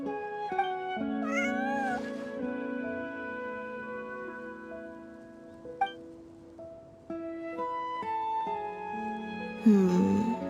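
Bonnie the cat gives several short meows in Genshin Impact, heard over steady, sustained game music, with a brighter cluster of calls near the end.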